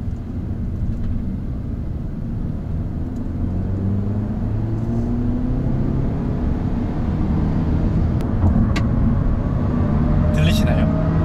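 A Hyundai Elantra Hybrid's 1.6 Kappa engine drones with a steady low rumble from inside the cabin while a person talks over it.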